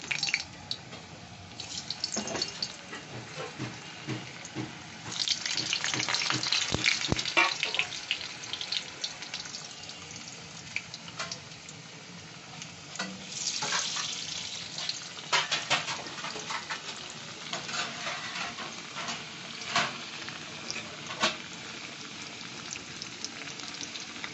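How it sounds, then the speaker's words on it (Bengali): Four large potatoes cut into chunks fry in mustard oil with a steady crackling sizzle, swelling louder in bursts as pieces shift, marked by clinks and scrapes of stirring and no speech. "সর্ষের তেল দিয়ে দিয়েছি এবার আমি চারটে আলু বড় বড় ছিল বলে আমি টুকরো করে নিয়েছি ছোট হলে আপনারা গোটাই রাখতে পারবেন চারটে আলু আমি ভেজে নিচ্ছি"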